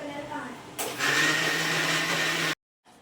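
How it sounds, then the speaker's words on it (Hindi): An electric mixer grinder grinds spices in a jar, starting up with a loud steady whirring drone that runs for about two seconds before cutting off abruptly, with a brief faint sound after. "उसी पे मैं जार लगा के मसाला पीस लूँगी"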